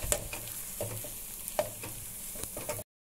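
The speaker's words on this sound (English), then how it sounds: "Stir it, stir it." Wheat flour halwa being stirred in a pan on the stove, with a steady soft scraping and gentle sizzle and a few sharper spoon knocks against the pan, close by with no talking.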